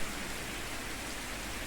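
Steady rain pours down in Farming Simulator 22 during ploughing, an even, continuous hiss of rainfall with no breaks or other clear sounds.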